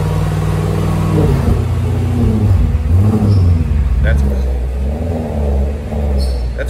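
A 2016 Audi RS7 Sportback with a catless Valvetronic exhaust revs up and settles with its valves closed, a loud, deep, muffled roar swelling and easing over several seconds as voices talk underneath.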